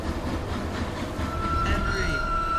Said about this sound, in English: As the train approached the most treacherous part of the line